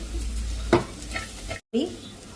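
Pepper and spices stirred into mussel meat roasting in a pan: a steady sizzle with a few scraping stirring strokes, close and clear, broken by a brief silent gap.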